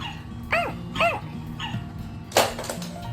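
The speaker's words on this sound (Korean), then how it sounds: "멍멍이 소리 나는 거 싫어" A small puppy yips a few times in quick succession, high and close, over a low steady background hum.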